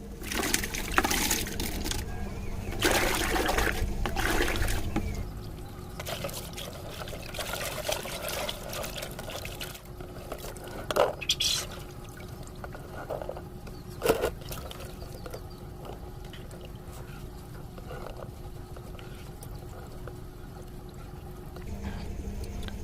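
Harvested clove beans being rinsed in water, with pouring and trickling splashes loudest in the first five seconds, then quieter intermittent sloshes and drips over a steady background.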